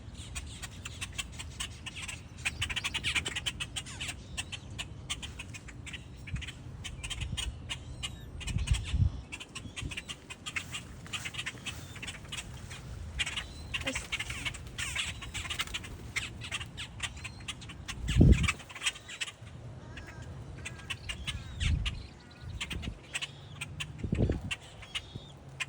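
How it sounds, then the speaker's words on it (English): Noisy birds at a feeding spot, with crow-like caws and squawks repeating at irregular intervals amid steady outdoor background noise, plus a few louder, closer bursts. "Noisy birds, noisy, noisy."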